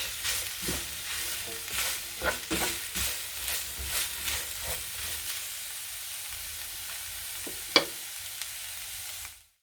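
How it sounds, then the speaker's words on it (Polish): Beef with vegetables and garlic fries in a pan, a steady sizzle broken by repeated scraping stirs of a utensil, close and clear with no voices. "musimy tylko pamiętać, żeby to często po prostu mieszać"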